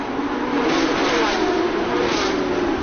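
A Porsche Carrera Cup race car at Bangsaen streaks past on the track, its engine a steady, loud, continuous roar that holds strong for a few seconds with no talk over it.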